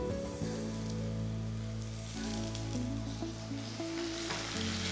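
Curry leaves sizzle and crackle in hot oil with crushed garlic in a pan, a steady close frying hiss with bursts of spitting and no talking.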